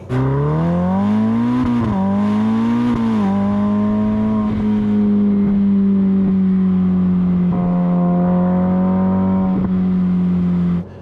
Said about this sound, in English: It's the sound of the engine.